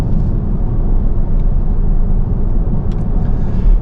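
A BMW X6 40d at low speed gives a loud, deep, continuous engine rumble from inside the car, steady throughout, with a brief swell at the end.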